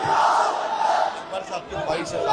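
A large rally crowd shouts a call-and-response slogan in unison, a dense, loud roar of many voices that swells and surges in waves without a single clear speaker.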